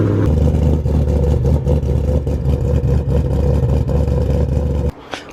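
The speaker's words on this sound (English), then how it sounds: "We're gonna start it up and then just let it run out of gas." A Ford GT500 engine running on E85 with almost no fuel idles with a loud, lumpy rumble and slight clatter, then abruptly cuts out as it runs dry.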